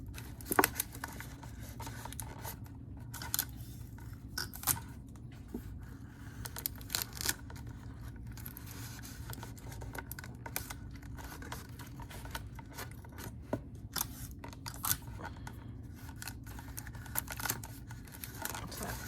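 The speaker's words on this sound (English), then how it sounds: "I'm going to add some more tape inside to make sure that it's really secure" Tape being cut and pressed inside a homemade ring-toss ring: a run of scattered close crackles, rips and taps through quiet handling noise, with no talk.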